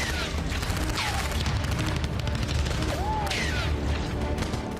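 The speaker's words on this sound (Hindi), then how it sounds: "रॉकेट लॉन्चर के साथ ही गोलियों की नॉनस्टॉप बौछार" Rocket launcher fire and nonstop bursts of gunfire from a battle in Ghazni, a dense, continuous roar of rapid shots and blasts with whistling streaks overhead, loud and unbroken.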